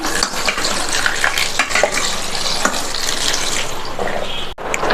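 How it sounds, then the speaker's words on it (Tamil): Cold tap water pours steadily over cooked pasta being rinsed and drained, a continuous close splashing rush that dips briefly near the end, with no talking. "நல்லா கோல்டு வாட்டர் வச்சு வாஷ் பண்ணியாச்சு"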